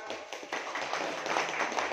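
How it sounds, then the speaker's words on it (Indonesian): An audience at an evening gathering in a cafe claps for the motorbike youths of Tapung Raya, a dense, even patter of many hands lasting throughout. "Sekali lagi tepuk tangan."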